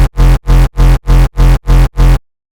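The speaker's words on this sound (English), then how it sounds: "Sefa uses tails with a kinda heavy crispy distortion" Seven loud, evenly spaced electronic kick drum hits with heavily distorted, crispy tails made from the Next Millennium kick preset, pounding in a steady rhythm before cutting to silence.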